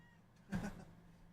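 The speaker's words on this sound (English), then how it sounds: "can you hear this cat meowing?" A cat gives one short, close meow near the microphone, over a quiet background.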